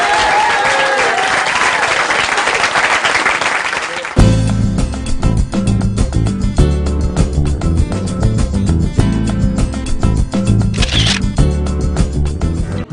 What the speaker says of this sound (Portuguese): Senhoras e senhores, Carlos Henrique e ótima salva de palmas.